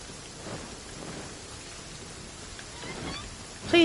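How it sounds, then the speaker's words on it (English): Steady rain falls in a Genshin Impact game scene with a low rumble of thunder beneath it, a continuous even wash of sound with no speech. "It always rains when I go on an adventure."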